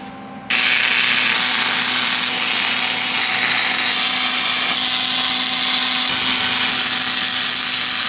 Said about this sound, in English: Let me finish welding this